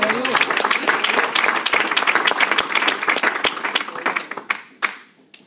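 A church congregation at a Spanish-language sermon gives a loud, dense round of applause for Jesus that thins into a few scattered claps and fades out.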